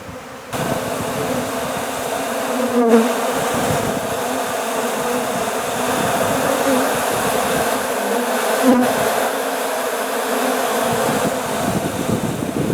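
Bees buzzing around a gas tank as they make orientation flights, a dense, steady swarm hum close by and continuous for the whole stretch, no talk.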